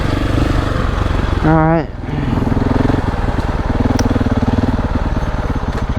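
A KTM 690 enduro motorcycle rides an off-road woodland trail, its single-cylinder engine thumping loud and close with a steady rhythm, briefly revving higher and dropping before settling back; a rider speaks a single word over it.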